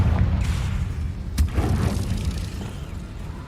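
Confringo spell explosion in Hogwarts Legacy, a deep booming burst with a sharp crack in the middle, rolling low rumble throughout, loud and close against game ambience.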